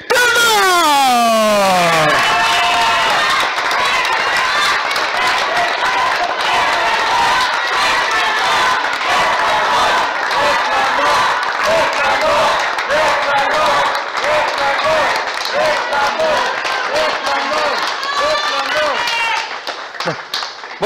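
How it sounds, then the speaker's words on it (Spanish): Loud crowd applause and cheering for a retiring luchador at a wrestling farewell event, a dense sustained roar filling the arena over about twenty seconds, with a sweeping whistle-like tone at the start and shouting voices mixed throughout. "El aplauso fuerte para Res"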